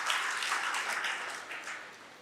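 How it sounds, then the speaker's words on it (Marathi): Audience applause in a packed hall at a Marathi farmers' literary conference, a steady dense wash of many hands clapping that holds for a couple of seconds and then slowly fades. "त्या गंगाधर मुटेसरसाठी एकदा जोरदार टाळ्या झाल्या पाहिजे"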